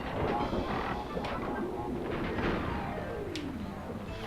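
Crates blowing up in the video game Crash Bandicoot 3: dense game audio with several sharp, booming bursts scattered over a steady bed of busy background sound.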